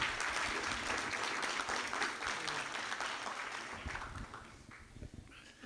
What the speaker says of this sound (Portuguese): aplaudindo